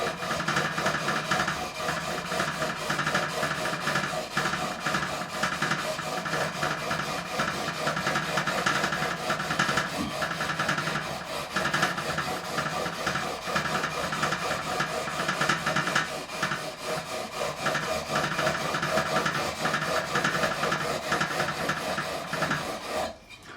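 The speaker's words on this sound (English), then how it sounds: "I'm going to go with a 400 grit now, just basically removing the pen, just so we know that we are level" 400-grit sandpaper rubbed along the frets of a Japanese Fender Stratocaster neck with a Kahler, a continuous close scraping rasp with a steady back-and-forth rhythm throughout and no talking.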